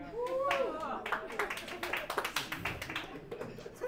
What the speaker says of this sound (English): Five sad claps.